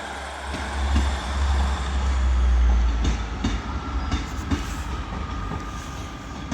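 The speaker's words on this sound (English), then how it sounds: "Departing now with his tail lights on is 156484 working a service to Heaton." A Class 156 diesel multiple unit pulls out of Carlisle station with a low rumbling engine and steady rolling noise, a swell building then easing over several seconds, with occasional rail clicks and no talk.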